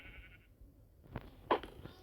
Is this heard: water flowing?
no